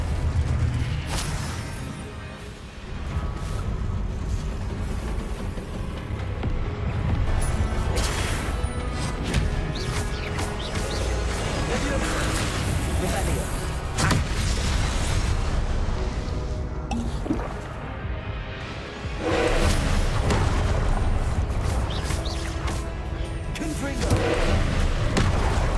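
Confringo blasting spells going off in Hogwarts Legacy amid combat, with repeated booming impacts and crashes over a dense, continuous layer of battle noise and music, loud and close throughout.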